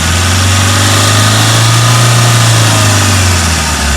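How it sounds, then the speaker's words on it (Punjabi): A car engine with a glow plug problem and white smoke, held at raised revs, runs as a loud, steady, close drone with a deep hum throughout, easing slightly near the end. "ਬੇਟਾ ਰੇਸ ਦੇ ਹੀ ਰੱਖਿਓ ਦੇ ਹੀ ਰੱਖੋ ਰੇਸ"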